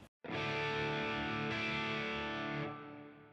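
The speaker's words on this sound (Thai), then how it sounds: "ถ้าเราอยากฟังรีเวิร์บเปล่า ๆ เนี่ย" An electric guitar chord is played through a reverb effect and heard on its own, ringing loud and full with a gritty edge for several seconds before its tail fades.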